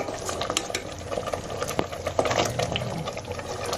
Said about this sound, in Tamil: போட்டுட்டு இதே மாதிரி கிண்டி விட்டுட்டே இருக்க வேண்டியதுதான்.